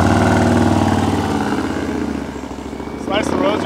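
A Ryker edition Harley-Davidson with a 128 inch Moonshine power kit engine runs loud and close, a deep throbbing rumble with a rising rev near the end while people talk over it.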